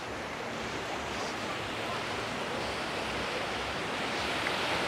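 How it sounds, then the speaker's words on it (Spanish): Steady broadband roar of surf washing onto a crowded tourist beach at Canasvieiras, Florianópolis, Brazil, continuous and fairly close for the whole stretch with no talk. "acá estoy caminando un poquito por la playa"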